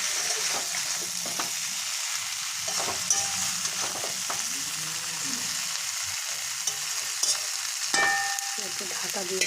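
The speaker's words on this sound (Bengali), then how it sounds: "কষিয়ে নেব।" Koi fish curry with cauliflower and potato sautés in oil in a pan, giving a steady close sizzle broken by scraping, clattering stirs, with no voices.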